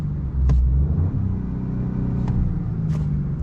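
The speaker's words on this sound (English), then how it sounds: "We'll give it a couple of revs in neutral" A 2020 Vauxhall Corsa 1.2 turbo engine rumbles nearby and is briefly revved in neutral while stationary, a low steady drone rising and settling.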